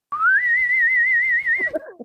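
A person whistles a single sustained, rising tone imitating the Star Trek whistle, held with a slight wavering vibrato for about a second and a half before a brief voice follows, close and clear.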